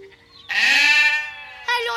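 A cartoon sheep bleats in a long, loud, wavering call, followed by a second shorter bleat, up close, with no other voices.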